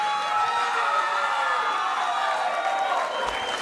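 A crowd at a fight event cheering and clapping for the winner, a sustained roar of applause and whoops filling the space, with a voice talking over it.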